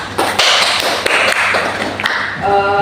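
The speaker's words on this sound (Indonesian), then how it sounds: "kita berikan aplaus dulu untuk kita semua" A classroom group claps in applause for a presenting group after a small-group lesson, a dense burst of close hand claps that fades at the end.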